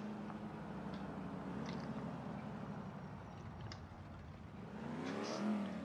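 A truck engine in the video game LCPD:FR hums steadily at a low volume, then climbs into a brief rev near the end, with no talking over it.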